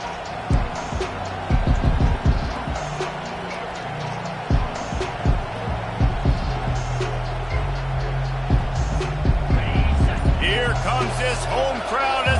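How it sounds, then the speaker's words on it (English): Home football crowd at an Oklahoma State versus Nebraska game roars in a sustained, swelling wash of noise, with sharp bangs and thumps scattered through it and a commentator talking over the top. "how nice is it to have the home crowd going absolutely bananas?"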